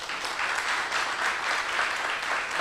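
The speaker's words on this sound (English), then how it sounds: "So give yourselves a round of applause." Audience applause at a research week event, a continuous even patter of many hands clapping at moderate volume with no break.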